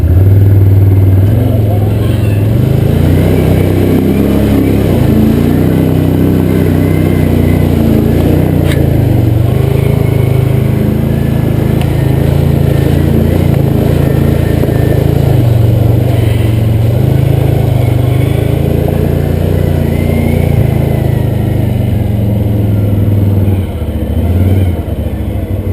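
Can-Am Outlander four-wheel-drive ATV engine droning loud and steady on a muddy trail, holding a continuous throttle with slight surges, close to the microphone.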